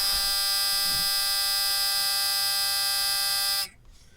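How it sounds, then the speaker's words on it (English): An electronic buzzer inside a Turbo LS Fairmont car sounds a steady, loud, high-pitched continuous tone for several seconds, then cuts off abruptly, leaving quiet cabin noise. "This car's got a very annoying buzzer."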